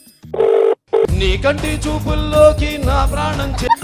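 A phone call ringing: a short electronic ringtone chirp at the start, quickly covered by loud background music, with no talking.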